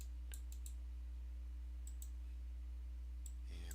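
Two quick mouse right-clicks in software, each a sharp, faint tick, set apart by a steady low hum from a computer, with a few more light clicks near the end.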